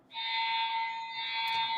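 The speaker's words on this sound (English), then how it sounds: "Pull the fire alarm." A fire alarm rings as one continuous, loud electronic tone that starts abruptly and holds steady, with no voices.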